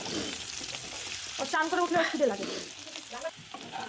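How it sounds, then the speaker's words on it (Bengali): Peeled potatoes frying in oil with cinnamon and other whole spices, a continuous close sizzle with stirring scrapes through the middle, no one speaking. "আলুগুলো দিয়ে দেবো দিয়ে আলুটাকে ভালো করে একটু ভেজে নেবো লাল লাল করে"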